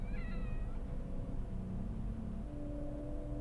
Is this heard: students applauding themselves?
no